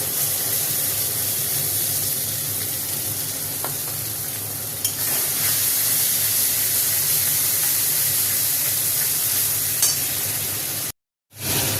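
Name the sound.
spices frying in oil in a wok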